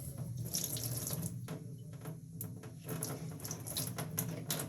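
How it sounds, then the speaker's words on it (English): A steady stream of water runs from a tap, a continuous splashing hiss with no break, close by and alone. "And you get a little water going here."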